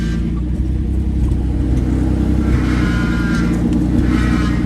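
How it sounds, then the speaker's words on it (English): A Ford Bronco engine runs at a high idle, a loud, steady, continuous drone with a low rumble that holds level throughout, without any talking over it. "We got a little bit of a high idle."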